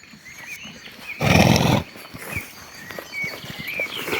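A stallion gives one loud, harsh neigh lasting about half a second, with shuffling hooves and rustling before and after.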